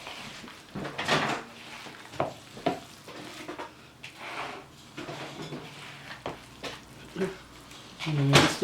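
Jumbo lump crab meat mixed by hand for a seafood UFO sandwich, making soft, close squelching and patting sounds in irregular bursts, with brief gaps and a louder rustle at the end.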